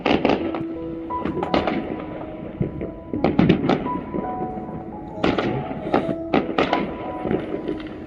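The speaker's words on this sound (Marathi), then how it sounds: "तर हे 12 वाजले होते आणि फटाके फुटायला चालू झाले होते" Firecrackers pop and bang at midnight on New Year's Eve in irregular bursts, some sharp and close, others distant, with ringing tonal squeals between the blasts.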